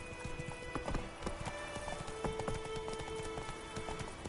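Roach, a horse in the video game Witcher 3, gallops with a steady rapid clip-clop of hooves, moderately loud over faint ambient game sound.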